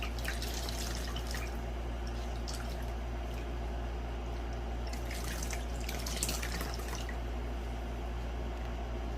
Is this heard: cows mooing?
no